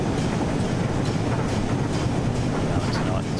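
A train in Train Sim World, on the line between New York Penn and Trenton, rumbles past in a steady, dense roar with faint rhythmic clatter, a person talking over it.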